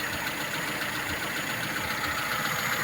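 Small car engine idling after its carburetor was restored, running steady and even at close range with a continuous hum and no voices.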